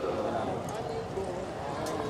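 Racehorses being walked under their riders in the parade ring at the Rashid Equestrian and Horse-racing Club give soft, steady hoof clops beneath continuous talking and a broad background wash.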